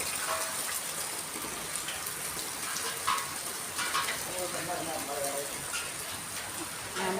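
Rain falls steadily in a summer downpour, a continuous close hiss and patter with scattered heavier drips and splashes throughout.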